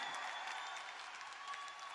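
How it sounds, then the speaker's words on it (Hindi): An audience gives a brief burst of applause. Many hands clap in a dense, steady wash that sounds fairly faint and distant. "अरे इस पे तो खड़े होके ताली होनी चाहिए यार"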